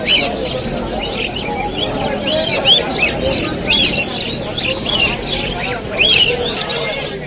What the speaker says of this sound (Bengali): লাভবার্ড পাখি আছে